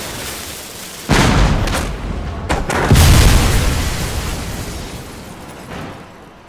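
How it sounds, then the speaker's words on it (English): A cannon in the video game Contrast fires with a deep, loud boom, followed by a second heavy blast and a rumbling roar that slowly fades. "Fire when you are ready, Bridley!"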